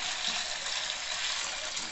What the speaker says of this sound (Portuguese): Vou passar água nesse peito, hein?